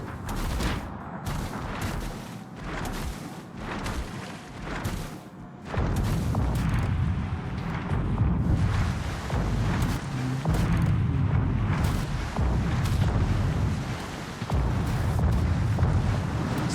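Main guns of the Polish radar destroyer Blyskawica firing in World of Warships: repeated heavy booming salvos that thunder and rumble over the din of battle, with a sharp run of shots early and then a denser, sustained barrage.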